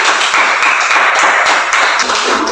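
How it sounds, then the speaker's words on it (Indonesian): A classroom of students claps together at the end of a lesson, a dense, steady patter of many hands close by that lasts throughout with no talking. "Tepuk tangan dulu buat kita semua hari ini"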